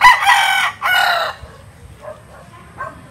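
A rooster crows at a game fowl farm in Taytay, Rizal, with two loud, close crowing calls followed by fainter clucks and a distant crow.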